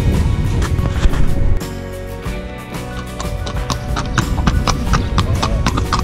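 A horse pulls a carriage past the cathedral in Seville, its hooves clip-clopping in a steady rhythm on the street, close and clear amid city background noise.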